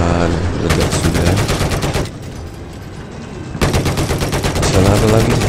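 Sustained automatic gunfire in the video game Battlefield 4 during a tank battle, dense rapid bursts that drop to a quieter rumbling lull midway before loud firing resumes, with a voice faintly under the shots.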